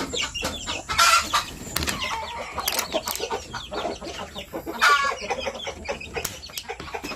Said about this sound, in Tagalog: Maraming sisiw ito mga farmers.